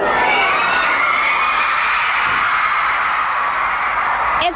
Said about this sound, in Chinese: 大家当场欢呼大叫